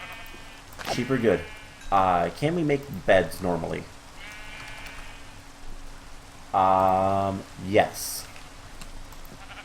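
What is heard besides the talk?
sheep bleating in Minecraft modpack Enigmatica 2, a video game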